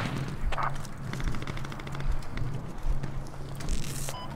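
Gunfire in the military shooter Squad, with a dense mix of distant shots and crackling rifle fire running throughout under a steady low hum, loud and continuous.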